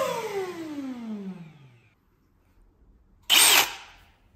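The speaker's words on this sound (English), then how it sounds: "We'll get the drill down." A drill winds down on a blocked drain job, its whine falling in pitch and fading to quiet, then a short loud burst of the drill kicks in again near the end.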